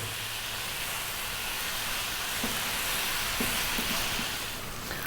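Egg noodles frying in a pan for chow mein hiss and sizzle steadily while being stirred, with a few faint scrapes and clinks of the utensil breaking through the constant hot crackle.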